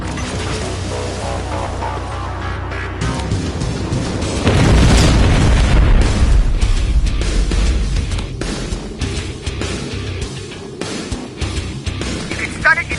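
Rocket blasts in the Terminator Resistance video game: a heavy, loud boom rolls out near the middle, with crashing debris and rumbling around it and shorter impacts trailing after.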